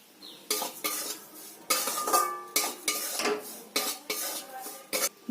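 Blended rice is tipped into roasted semolina and stirred in a pan, with repeated loud metallic scrapes and clanks of the spoon against the pan in an irregular rhythm, close and alone.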